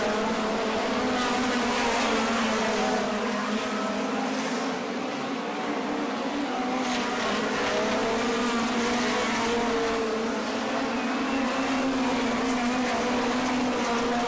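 Speedway sprint cars on the last lap of a British Sprints race, a loud continuous engine roar holding steady throughout with no talk over it.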